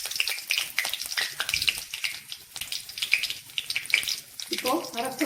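Bay leaf, green chilies and curry leaves crackling and sizzling in hot oil in a pan, a steady close frying hiss with small pops, and a voice speaking near the end.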